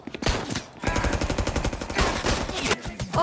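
Gunfire in Mafia Definitive Edition, fast machine-gun bursts rattling loud and close, with rapid regular shots and brief gaps between volleys.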